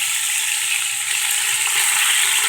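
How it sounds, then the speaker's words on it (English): Meat browning in a pot for chile verde, a loud dense hiss of frying fat that runs steady and close throughout. "Now all we're doing is really just browning the meat."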